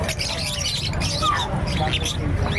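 Caged birds at a busy bird sale in Bocaue chirp and squawk in quick repeated calls over a dense crowd babble, with people talking nearby throughout.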